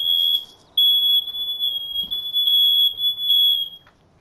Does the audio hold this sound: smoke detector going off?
yes